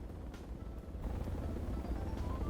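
A large transport helicopter flies in the game Project Reality, making a steady, low rotor and engine rumble that holds throughout and swells slightly partway through, with no talk over it.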